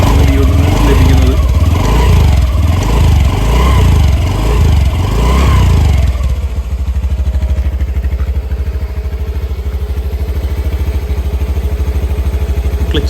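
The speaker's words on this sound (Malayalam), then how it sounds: "ഇനി നമുക്ക് എഞ്ചിൻ്റെ സൗണ്ട് കൂടെ ഒന്ന് കേട്ട് നോക്കാം. ഇതാണ് വാഹനം സ്റ്റാർട്ട് ചെയ്താലുള്ള അവസ്ഥ." A 2025 Honda Dio 125 scooter engine runs just after starting, first with uneven pulsing revs and then settling into a steady, close, loud idle thrum.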